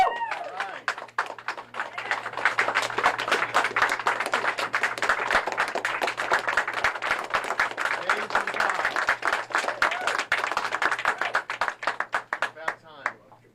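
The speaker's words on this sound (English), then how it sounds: "I say we give these guys a round of applause" Applause at a press conference: a crowd clapping steadily and loudly for the whole stretch, with a few shouts and cheers mixed in.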